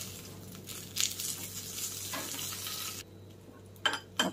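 Coriander leaves roasting in hot oil in a pan, a steady broadband sizzle with occasional utensil clinks and stirring, dropping to a quieter hiss partway through before a few sharper scrapes near the end.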